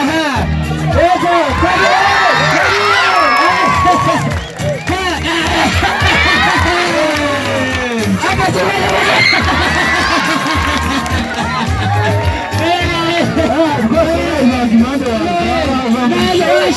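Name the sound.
crowd applause and cheering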